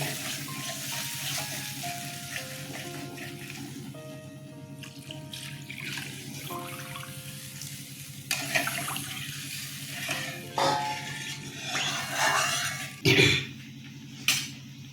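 Coconut milk poured into a pan while cooking a Bengali prawn malai curry, a soft, steady liquid splash running throughout at moderate loudness, with a few louder bursts near the end.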